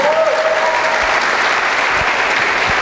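A church congregation bursts into loud, dense applause, a close and continuous wash of clapping with a faint voice at the start.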